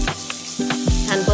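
Cumin, curry leaves and ginger-garlic paste sizzle loudly in hot oil in a kadhai, a close crackling hiss broken by quick spatula clinks.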